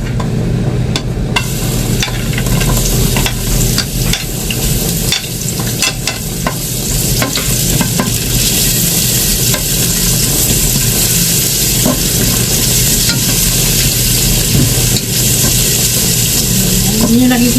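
Onion frying in hot cooking oil, a loud, steady sizzle that runs unbroken from start to finish, with occasional stirring scrapes and a faint voice underneath.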